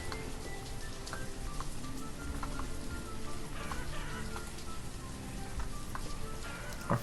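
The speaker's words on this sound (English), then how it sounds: "That warm summer rain." Steady soft rain hiss from the city-building video game Banished, faint and continuous with scattered light patter, and no voices.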